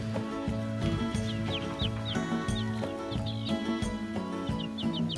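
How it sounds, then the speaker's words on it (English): An imprinted pet chicken in a backyard garden clucks in short repeated bursts over a steady low hum, with bright chirpy calls scattered across the few seconds. "She's our little imprinted chicken."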